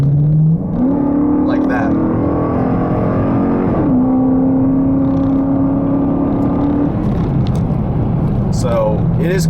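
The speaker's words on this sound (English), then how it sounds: "It just went from 35 to an unspecified mile per hour there pretty quickly." A Dodge Challenger R/T accelerates hard from about 35 mph, its engine note climbing in a loud, steady rise after a brief gear change, with someone talking over the engine.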